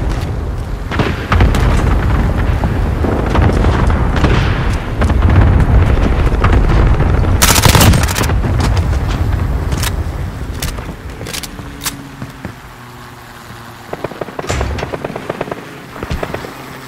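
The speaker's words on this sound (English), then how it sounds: "Enemy cluster strike incoming." Cluster strike explosions in Call of Duty Modern Warfare, a dense run of loud booms and crackling blasts over several seconds, then scattered sharper bangs and thuds fading out.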